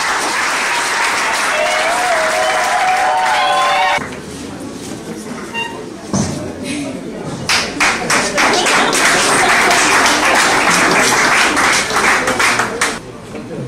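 Audience applause at a graduation diploma ceremony, a steady loud burst of clapping from a crowd that breaks off midway and then resumes strongly, with an announcer's amplified voice heard around it.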